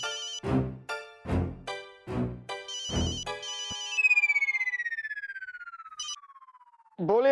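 A phone redialing: several short electronic ringtone bursts in a steady rhythm, then a long tone sliding downward, loud and close with no talking.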